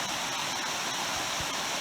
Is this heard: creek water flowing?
yes